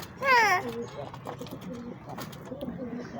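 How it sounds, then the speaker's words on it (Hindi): A pigeon coos once, a short warbling call close by, followed by quiet background voices and household noise. "ये हमारे पास बड़े प्यारे प्यारे से कबूतर भी हैं।"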